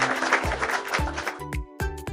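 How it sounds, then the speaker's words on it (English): A children's group claps in a cartoon colour lesson for toddlers, with a burst of layered applause followed by a few distinct individual claps set over a bouncy musical backing. "Let's clap for ourselves."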